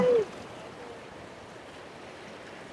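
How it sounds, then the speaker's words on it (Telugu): Constant loud rush of a flowing river, a broad roar that continues steadily throughout with no pauses. "వాటర్ ఫ్లో కూడా చాలా ఎక్కువనే ఉంది"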